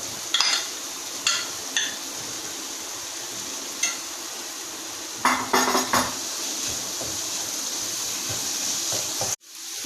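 Dal roasting in spice masala sizzles steadily in a pan, and a utensil repeatedly stirs and clinks against the metal in irregular bursts. The sound cuts out sharply at the end.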